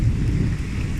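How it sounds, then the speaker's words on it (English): Steady rain falls outdoors on a green lawn in Islamabad, a dense continuous wash of patter with a low rumbling undertone, fairly loud and unbroken, with no voices. "it's raining in Islamabad"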